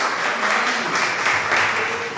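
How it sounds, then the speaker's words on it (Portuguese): Church congregation applauding during a Portuguese-language evening service, a steady, fairly loud wash of clapping that carries on throughout without a break. "Você pode aplaudir ao Senhor e receba o pastor Carlos Júnior"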